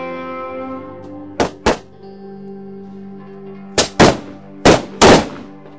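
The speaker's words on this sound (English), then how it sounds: "Fire one shot." Rifle shots at a training range crack out as loud, sharp reports with quick decays, several in sequence over a steady low hum, rather than one single shot.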